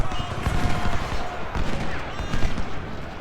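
Musket volleys crackle through a battle in the Civil War strategy game Ultimate General: Civil War, loud, dense and overlapping, with intermittent booms.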